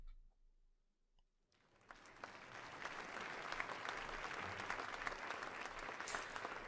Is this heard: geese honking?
no